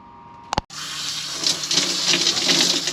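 Water running through shower plumbing, a short knock followed by a steady hissing gush that swells and keeps flowing, close and fairly loud with no talk.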